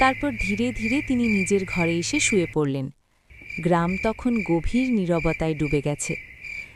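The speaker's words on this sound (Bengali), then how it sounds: "দূরে কোথাও ঝিঝি পোকার ডাক" A steady high cricket chirp runs throughout beneath a calm narrating voice, dropping out briefly during a short pause.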